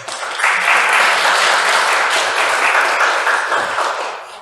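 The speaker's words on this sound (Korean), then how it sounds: "박수 보내주십시오." An audience at a Buddhist dharma gathering claps steadily and loudly for several seconds, a dense, even wash of applause that tapers slightly near the end.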